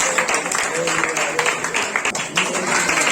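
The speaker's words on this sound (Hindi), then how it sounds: "पास्टर पांडियन के लिए जोरदार ताली के साथ हम शॉल पहनेंगे" Audience applause rises in a church during an opening welcome ceremony, dense steady clapping mixed with voices and talk over it.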